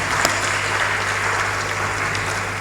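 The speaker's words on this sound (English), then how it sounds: "Another round of applause for" A hall audience at a university policy forum applauds steadily, a dense wash of clapping that holds at an even, fairly loud level throughout, with a low steady hum underneath.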